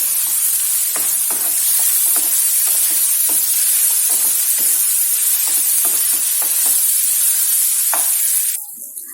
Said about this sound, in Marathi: छोटा चम्मच जिंजर गार्लिक पेस्ट टाकणार आहोत, त्याला सुद्धा मिक्स करून घ्यायचं, छान परतून घ्यायचं